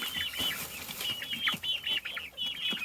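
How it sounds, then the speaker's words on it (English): A Sebright rooster clucks in a series of short, close calls, with a few soft rustles or wing movements in between and no talking. "Where's our little rooster?"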